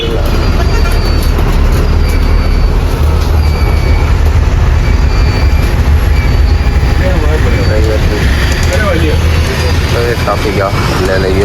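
Continuous loud engine and road rumble inside a moving bus on a route from Gudalur toward Kannur and Kasaragod, with steady low drone and rattling throughout, and voices talking faintly underneath.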